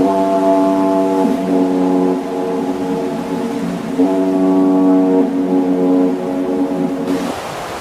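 A foghorn sounds over the ocean, a loud, deep, sustained blast with rich layered tones, briefly dipping and resuming in a second long blast before cutting off.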